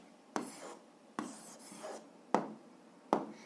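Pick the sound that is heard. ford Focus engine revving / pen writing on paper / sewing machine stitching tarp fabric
pen writing on paper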